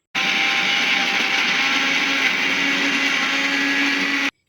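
An electric blender grinds a Bru coffee shake in one continuous loud roar lasting about four seconds. It starts and stops abruptly, and no voices are heard.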